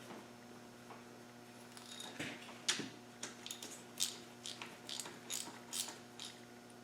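A ratchet undoing 13mm nuts on the rocker box of a Land Rover Defender 300Tdi engine: quiet, irregular clicking and small metallic ticks over a steady low hum.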